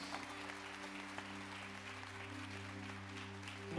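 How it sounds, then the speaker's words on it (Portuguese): A church congregation applauds, a soft, steady wash of clapping heard at a distance beneath a constant low hum, with no voices. "Uma salva de palmas para esses"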